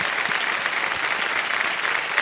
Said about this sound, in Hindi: तालियां बज जाए एक बार फिर इनके लिए